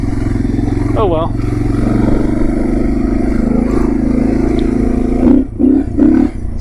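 Dual sport motorcycle engine, an XT250 or DR650, churning through deep sand, a steady loud drone running under nearby talk throughout, with a few brief revving pulses near the end.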